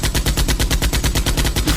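Rapid, loud bursts of a potato turret firing in the video game Bully, a fast machine-gun-like rhythm of about eight shots per second sustained without a break and with no talk.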